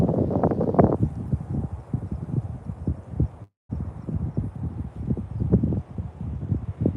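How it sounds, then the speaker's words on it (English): Gusty wind at an outdoor ranch buffets the microphone, producing low rumbling bursts that come and go, with a brief dropout midway. "I think it does sound quite windy."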